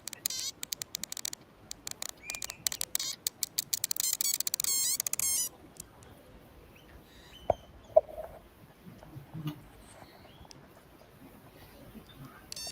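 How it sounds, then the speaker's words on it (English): Chickens and other birds call and cluck in response to small solar-powered sonic modules giving off buzzing, insect-like electronic chirps. The sound is faint and outdoors, with scattered bird calls after a dense burst of clicks. "You can hear the birds responding to this."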